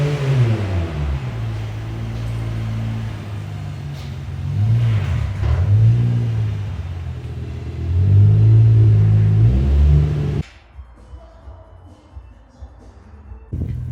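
A Toyota Soarer accelerates on the freeway, engine rumble rising and falling through several gear pulls with heavy road and wind roar, then cutting abruptly to a quieter cabin.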